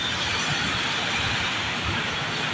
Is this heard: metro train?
yes